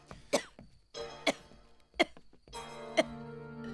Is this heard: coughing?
yes